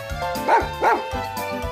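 A puppy gives two quick, close barks in a row over soft background music.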